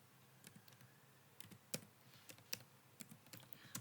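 Quiet keyboard typing: scattered clicks and short bursts of keystrokes at an uneven pace, with no one talking.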